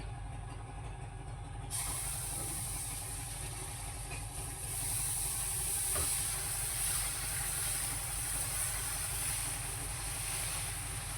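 Thin dosa batter meets a hot pan: a steady, close hiss swells in about two seconds in and holds without a break to the end, with no talking.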